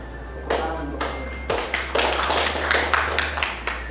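Schoolchildren are clapping their hands in scattered, uneven bursts of claps, fairly close and moderately loud, with a low hum underneath and some talk mixed in.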